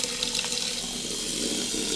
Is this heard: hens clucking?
no